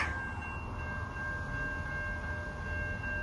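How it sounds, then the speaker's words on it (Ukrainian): A train passes steadily nearby in Canada, a continuous rumble with a sustained high tonal whine from the wheels or horn, with no talk. "зараз буде їхати потяг."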